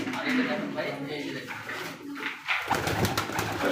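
Pigeons cooing at a pigeon market stall, soft repeated coos under steady chatter and crowd noise, fairly near.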